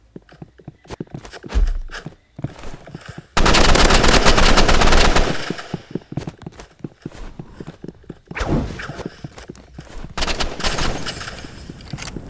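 Rapid assault rifle bursts from the video game Rivals, loud and dense, with a sustained stretch of continuous automatic fire in the middle and shorter scattered bursts and single shots before and after.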